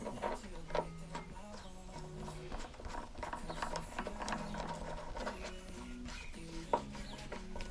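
A screw on a lawnmower is tightened with a ratcheting tool, making a series of quiet, close, rhythmic clicking ratchet sounds over a low background.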